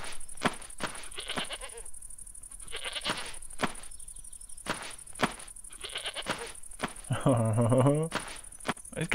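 A goat in Goat Petting Simulator gives repeated nasal bleats, with one long loud bleat near the end, set among soft thumps and bird chirps while someone speaks in between.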